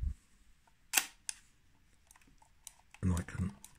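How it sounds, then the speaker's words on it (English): A screw thread Leica camera has its shutter cocked, giving a few small mechanical clicks and a sharp snap amid quiet handling noise, with someone speaking briefly near the end. "I've cocked the shutter"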